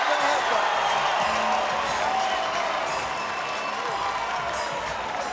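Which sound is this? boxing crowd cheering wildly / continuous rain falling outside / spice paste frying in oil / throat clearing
boxing crowd cheering wildly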